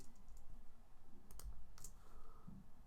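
A computer mouse gives a few faint, close clicks while video files are being uploaded, heard over a low, steady room hum.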